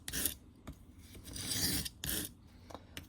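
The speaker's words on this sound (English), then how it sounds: "You shouldn't have to do a lot with this coarse stone unless you're reprofiling a knife" A knife is drawn across a coarse whetstone in repeated rasping strokes, close and fairly quiet, each pass a gritty scrape with short pauses in between.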